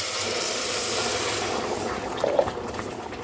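Hot water poured into hot rice in a cooking pot makes a continuous rushing, sizzling pour, steady and close, with a brief bubbling gurgle near the end.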